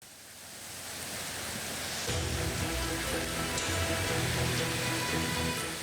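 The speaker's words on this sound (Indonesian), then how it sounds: "Derasnya arus Sungai Gelis dipicu turunnya hujan dengan intensitas tinggi sejak Jumat lalu" Swollen Gelis River current after days of heavy rain, a steady broadband roar of rushing water that grows louder partway through and continues unbroken with no voices.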